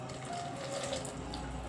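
Water streams steadily into a cooking pot for a short moment while a vegetable dish is being prepared, a close, continuous splashing pour with no talk over it.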